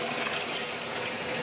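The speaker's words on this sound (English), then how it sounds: "now you can fill it up with however much water you like" Water gushes steadily from a garden hose into the tub of a top load washing machine, a continuous close-up rushing and splashing with no talk.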